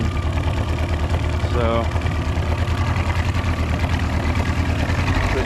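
A 2000 Johnson outboard motor, fitted with new spark plugs, runs with a steady, even mid-pitched engine drone heard up close with no break in its rhythm.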